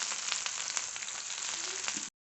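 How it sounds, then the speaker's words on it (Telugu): Finely chopped onions fry in hot tempering oil with a dense, close, steady sizzle lasting about two seconds before cutting off abruptly. "ఇప్పుడు ఇందులోనే సన్నగా చాప్ చేసి పెట్టుకున్న ఉల్లిపాయ ముక్కలు వేసుకుందాం."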